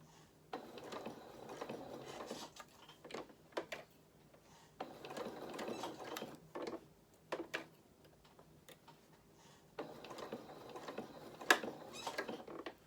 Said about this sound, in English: A couple of stitches forward because we're straight onto some shaping